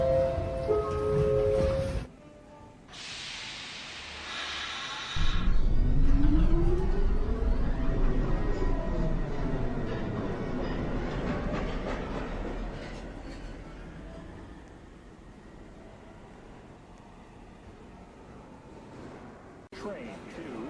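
A New York City Subway 1 train pulls out of Lincoln Center station, its motors rising in a whining, climbing pitch over a long rumbling roll that slowly fades. Earlier, loud tonal chimes and a door signal sound.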